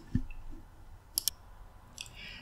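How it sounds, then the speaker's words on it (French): A computer mouse's left button gives a pair of sharp, quick clicks close together, then one more soft click, all faint against a quiet room with no talking. "je clique vers haute avec le bouton gauche de la souris"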